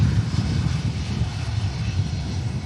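Airliner landing in a storm at Manchester Airport, its steady engine roar rumbling continuously with wind noise, loud and sustained throughout without speech.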